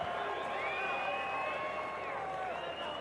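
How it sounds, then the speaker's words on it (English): Canadian supporters applaud and cheer as a broad crowd roar at a France versus Canada Rugby World Cup 2011 match, heard from a distance under steady commentary. "good applause there from the Canadian support"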